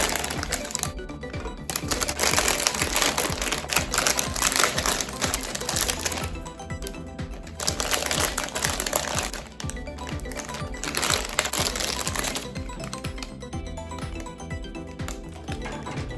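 Plastic Easter eggs from Dollar Tree being pulled free of their packaging, a steady run of close crinkling and crackling plastic with small clicks and taps throughout.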